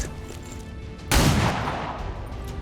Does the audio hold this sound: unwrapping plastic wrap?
no